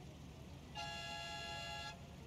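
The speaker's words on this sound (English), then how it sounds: "That's a funky horn." A funky, musical car horn in the Mafia video game sounds one sustained tonal blast of about a second, clear and fairly loud over a low background rumble.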